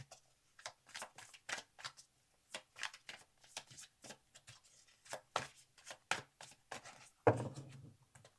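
A deck of tarot cards shuffled close up for a four-card reading, with a series of crisp riffling bursts in an irregular rhythm and a sharper tap near the end, in a quiet room.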